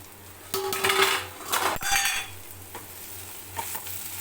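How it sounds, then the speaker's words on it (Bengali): A lid lifted off a cooking pot of boiled potatoes and long yard beans, a short burst of metallic clatter and scraping, then quieter pan noise, with no speech. "এবারে আমি ঢাকাটা খুলে দেখব ঠিক মতন সিদ্ধ হয়েছে কিনা"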